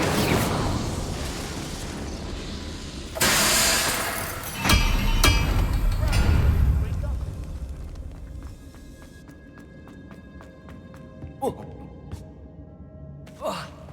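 A fire spell cast in Hogwarts Legacy, heard as a sudden whooshing burst of flame followed by crackling and roaring, then quieter magical chimes and a few sharp pops trailing off.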